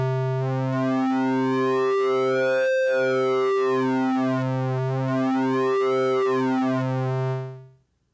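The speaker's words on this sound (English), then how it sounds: "sync applies a hidden oscillator that resets the phase of the audible oscillator, altering its timbre" A wavetable synthesizer with oscillator sync plays a series of sustained, buzzy notes whose bright upper harmonics sweep up and down in repeating arcs. It sounds loud and alone until a quick fade at the end.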